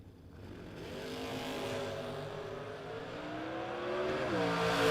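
Drag race cars, a Chevrolet S10 pickup and a 1968 Chevrolet Camaro, launch at a bracket drag strip, their engines building from a low rumble to a loud rising roar with gear-change dips, heard from a distance.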